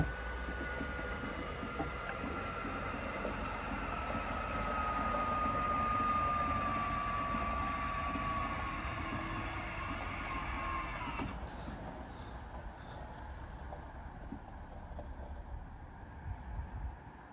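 A caravan motor mover drives a Buccaneer Cruiser caravan with a low, steady mechanical hum and a faint whining tone that rises slightly, then cuts off abruptly partway through, leaving quieter ambient rumble.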